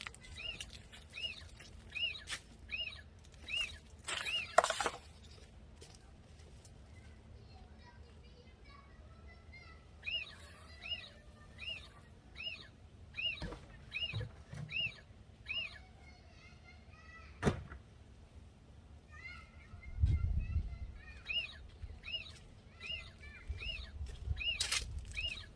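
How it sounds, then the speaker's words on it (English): A pet owl in a garden gives repeated short, high chirping calls in rhythmic bursts, fairly near, with rustling, clatter and a person's voice in the background. "That's my owl you're hearing."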